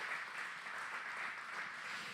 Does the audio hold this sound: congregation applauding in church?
yes